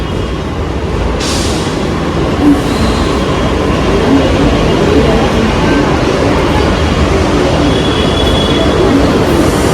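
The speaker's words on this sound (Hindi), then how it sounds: "चलो भाई मेट्रो भी आ गई है।" Loud, steady rumble of a metro train rolling into a station near Chandni Chowk, with a brief hiss and faint voices of a crowd under the constant rail noise.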